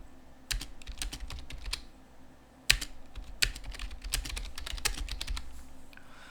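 Typing on a computer keyboard while working in a Linux terminal, with rapid irregular keystroke clicks in bursts, a brief pause, then a firm key press and more quick typing, close and clear.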